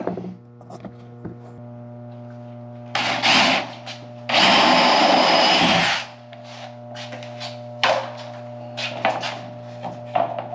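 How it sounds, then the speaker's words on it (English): A power drill fitted with a unibit step drill bores a hole on a Trane package cooling unit, in a couple of short, loud, close bursts over a steady electrical hum. "I'm gonna use a unibit."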